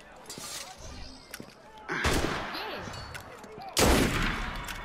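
Gunfire in the video game Assassin's Creed Unity, a few sharp shots and bursts over a low game backdrop, with players talking excitedly throughout.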